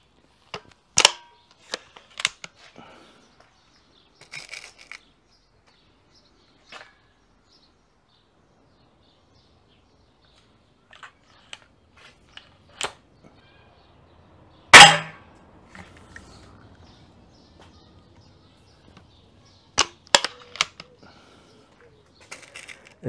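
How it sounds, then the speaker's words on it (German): Haenel 303 air rifle fired standing and offhand during a shooting test, giving a few sharp isolated cracks spread across a quiet stretch, with one louder snap near the middle and faint clicks and handling noises between shots. "Ich versuche stehend freihändig zu schießen"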